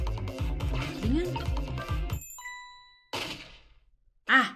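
A bell in the video game Ghost Trick rings out in a single bright, clear ding that lingers and fades, coming after game music and sounds, with a brief voice at the end.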